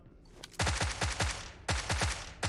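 Rapid gunfire from the mobile battle-royale game PUBG Mobile, with two quick bursts of sharp, repeated shots separated by a brief pause.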